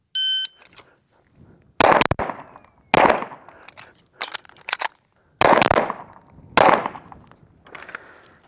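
A Race City Defense RC9 pistol fires a string of sharp, loud shots in uneven groups, close by. A shot-timer beep comes before them, and metallic rings and echoes trail after each report.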